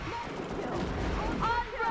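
Rapid bursts of gunfire from a gun in the video game CrossFire, dense and continuous at close range, with a voice talking over the shots.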